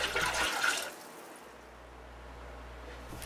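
Warm water pours and splashes into a marbling tray for about a second, then a quieter low hum remains with faint trickling.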